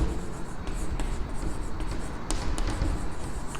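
Writing by hand during a Class X maths lesson, with a continuous scratchy scraping of a pen or marker and occasional sharper taps, heard close and steady under faint background noise.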